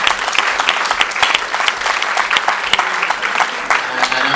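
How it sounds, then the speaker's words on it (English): Steady applause from a crowd at a cycling club awards night, many hands clapping densely and loudly close by without pause. "give him a round of applause"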